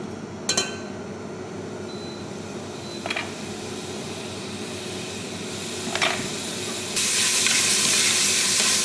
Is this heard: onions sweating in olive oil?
yes